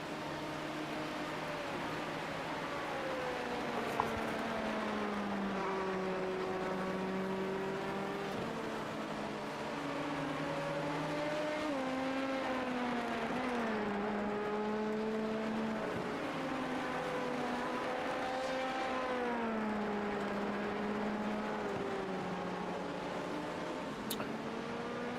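A race car in a racing video game drives through the Porsche curves at Le Mans, a steady high-revving engine whine rising and falling through gear changes and corners, continuous and fairly close.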